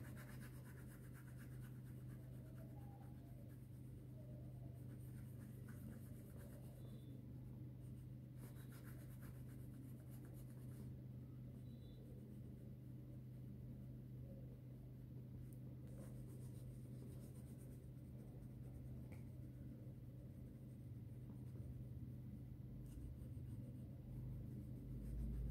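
Pencil colouring in a maths workbook, a steady soft scratching and rubbing that runs continuously and close, with a low constant hum underneath and no talking.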